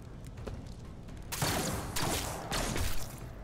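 Gunfire bursts in the video game Warhammer 40000: Rogue Trader, with several loud broadband blasts clustered in the second half, alone without talk.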